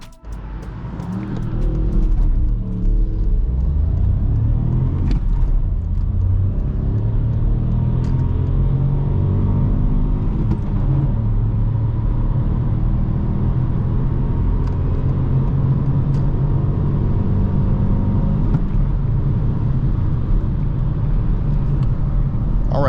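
A 2021 Ford Puma accelerates hard on the Autobahn toward 130, its engine note rising steadily with gear changes over a constant loud road and wind rumble from inside the cabin.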